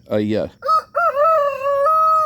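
A farm rooster crows loudly and close by, a drawn-out cock-a-doodle-doo with a few clucking notes at the start.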